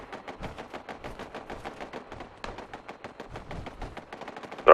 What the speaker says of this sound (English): There is quite a lot of gunfire to the left. Sounds like turrets?